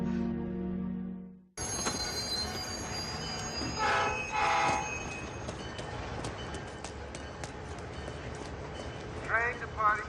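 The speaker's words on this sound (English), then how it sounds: "Train departing to Boston will be on track 4." A train at a railway station, with a rumbling, clattering passage, bursts of metallic wheel squeal and a short horn-like sound, fairly close, under steady station ambience after an abrupt cut.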